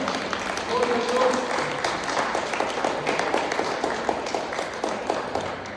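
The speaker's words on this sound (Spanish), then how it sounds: "Denle un aplauso a su pastora Alicia." A church congregation applauds their female pastor during a Sunday service, steady dense clapping filling the room for several seconds with voices mixed in.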